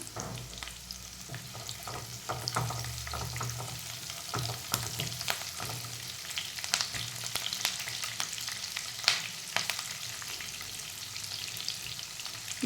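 Cumin seeds frying and crackling in hot oil for a green turmeric curry, with a steady sizzle and scattered sharp pops, fairly quiet and close, no voices.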